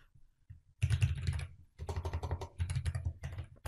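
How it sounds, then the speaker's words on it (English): Someone types on a computer keyboard in quick bursts of close, crisp key clicks with short pauses between them, entering a SQL query. "If I went and I just type select star from"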